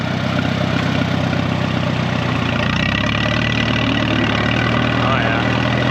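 A 1936 barn-find tractor, running on its first drive in over five decades, idles with a steady, close, throbbing engine note that drops lower partway through, with people talking over it.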